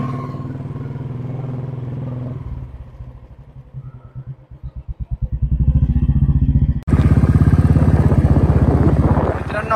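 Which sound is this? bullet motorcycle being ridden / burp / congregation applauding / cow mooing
bullet motorcycle being ridden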